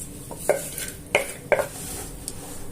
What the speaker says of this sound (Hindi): अब आप अपने साग को इसमें मिक्स कर दें।